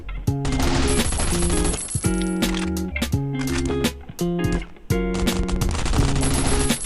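Rapid bursts of gunfire in the game Last Island of Survival crackle loudly and repeatedly, with metallic clinks and brief pauses between volleys.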